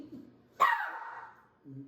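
An indoor dog lets out a single loud, sharp bark, then falls quiet while a person speaks faintly nearby.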